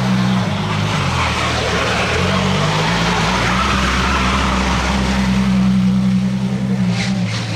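Bugatti Chiron supercars driving through Monaco streets, a loud continuous engine roar with a deep rumble and road noise, sustained and close throughout.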